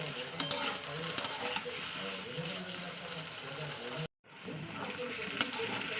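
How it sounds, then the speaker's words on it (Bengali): Potatoes coated in salt and turmeric fry in hot oil, giving a continuous close sizzle with occasional stirring clicks and a brief dropout midway. "তো এই তেলের মধ্যে ভালো করে আমি আলুটাকে ভাজা করে নিচ্ছি"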